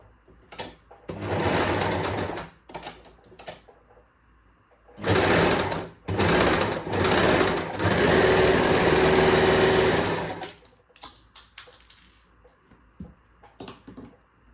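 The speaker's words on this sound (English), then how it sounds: "So first we're going to sew all the seams that we just pinned." A sewing machine stitches the pinned seams of pole shorts, starting with the waistband. It runs in several loud bursts of motor whir, short ones first and then a long run of about five seconds, with quiet pauses between them.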